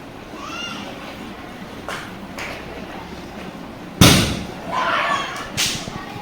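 A sharp, loud Diwali firecracker bang bursts outside in Velugodu, followed by fainter pops and thuds scattered around it, with distant voices in the background.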